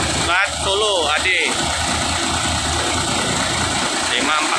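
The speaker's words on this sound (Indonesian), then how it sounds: "Coba cek mesin. Untuk mesin Hino ini ya teman-teman." A Hino bus engine idles with a steady low rumble throughout, while a person talks briefly near the start.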